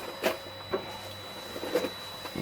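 A 5th generation Makerbot 3D printer moving its Z axis, heard as faint, close mechanical clicks and soft whirring pulses at irregular intervals over a quiet background hum.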